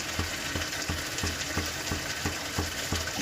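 Chicken in a spice masala with tomato paste fries in a pan: a steady close sizzle with regular scraping stirs about every third of a second.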